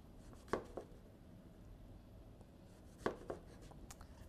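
A knife cuts slices of zucchini on a cutting board, making two quiet, separate thuds about two and a half seconds apart, each followed by a softer tap, against a low hush.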